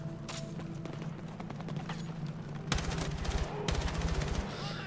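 Gunfire in the Battlefield 6 campaign sounds as scattered single shots, then rapid automatic bursts in the second half, layered over steady game background noise.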